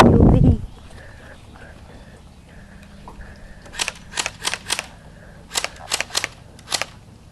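Airsoft gun fired at a target outdoors, about eight sharp snapping shots in two quick bursts after a brief thump at the start.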